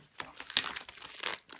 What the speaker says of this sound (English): I'm going to have to get my scissors out to slit these open